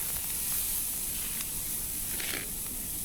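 Steak sizzling as it goes onto a grill outdoors, a steady bright hiss and crackle throughout, close and alone.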